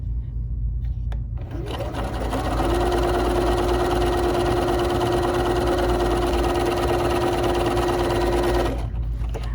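BERNINA 3 Series sewing machine stitching a mirrored tulip decorative pattern, a steady close mechanical whir and rapid needle rhythm running without pause for several seconds, no voices.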